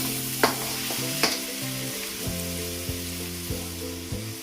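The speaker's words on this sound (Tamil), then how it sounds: "எல்லாத்தையும் சேர்த்து எண்ணெயில் போட்டுடுறேன். நல்லா கலக்கி விட்டுக்குங்க." Ginger and garlic sizzle in hot oil with a constant bright hiss, broken by several sharp scrapes and taps as a spoon stirs them around the pan, over a low background hum.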